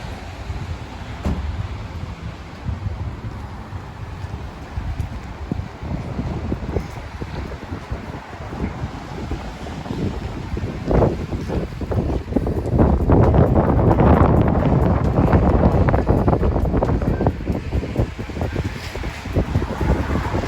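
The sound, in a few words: wind blowing outdoors in wet weather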